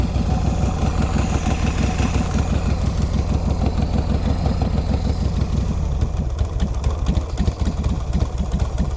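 A 2003 Exotic Chopper motorcycle with an S&S motor idles nearby with a loud, lumpy, rapid low thumping, the pulses loosening and spacing out slightly toward the end, with no voices.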